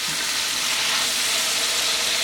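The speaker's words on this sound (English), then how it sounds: "I'm just going to put our spleen pieces in, our beef spleen. And we're going to fry them up." Pieces of beef spleen fry in a hot pan with garlic, giving a loud, steady, dense sizzle that holds evenly throughout with no voices.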